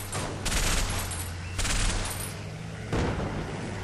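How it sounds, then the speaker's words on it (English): Machine-gun fire in the Combat Mission war game, heard as three sustained bursts at steady intervals over a constant low battlefield rumble, moderately loud and without speech. "Machine gun is still firing over there."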